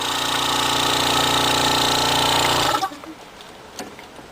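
A homemade propane jet engine roars loudly and steadily up close, a dense buzzing rumble that cuts off abruptly partway through, leaving faint clatters and quiet room sound.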